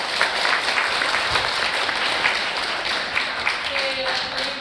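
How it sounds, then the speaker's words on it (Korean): An audience at a sleep apnea talk event applauds with steady, dense clapping that fills the room, while a voice speaks over it. "다시 한번 뜨거운 박수"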